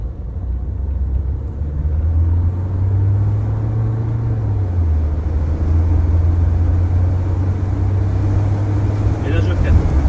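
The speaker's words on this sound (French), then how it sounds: "Je vais profiter de la petite ligne droite que j'ai pour accélérer un peu plus fort" A Renault Grand Espace 5 accelerating hard along a short straight, its engine a steady low rumble that rises slightly in pitch, heard from inside the cabin over continuous road noise.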